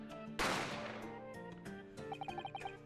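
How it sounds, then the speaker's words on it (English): A single loud gunshot in The Great Ace Attorney bursts sharply over the game's music, then decays into a run of quick chiming notes. "A gunshot rang out"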